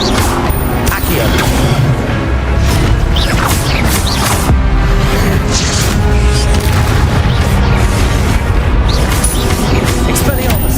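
Spell-casting in the Hogwarts Legacy video game, dense, booming magical impacts and mechanical clatter in a busy combat mix, steady and loud throughout, with a player talking over it.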